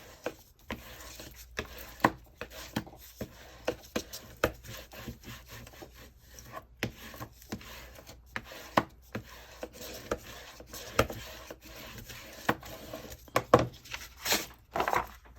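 Glued paper for a honey bee journal being burnished firmly by hand: quiet, close rubbing strokes in irregular bursts and scrapes throughout, with no talking.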